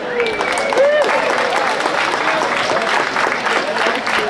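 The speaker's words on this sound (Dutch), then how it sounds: "Ik geef het woord en een applaus voor Julius Jaspers." Audience applause greeting a chef introduced at a culinary event in Haarlem, steady clapping throughout with voices talking over it.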